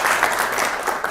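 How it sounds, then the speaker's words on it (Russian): Applause for a heavyweight fighter nicknamed Batya being introduced at a fight league press conference: steady crowd clapping, fairly close and even across the short moment. "Его, давайте, аплодисменты."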